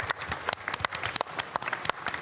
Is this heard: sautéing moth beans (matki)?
no